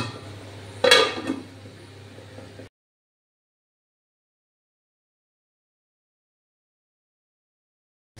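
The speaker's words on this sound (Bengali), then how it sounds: "এর মধ্যে আমি ঢাকনাটা দিয়ে দিই।" A metal lid set onto a cooking pot of thin pabda fish curry on the flame: one sharp clink with a short rattle over low kitchen hiss, followed by silence.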